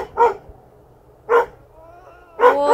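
A dog in a Korean village lets out three sharp, close barks about a second apart, with a faint whine drawn out between the second and third.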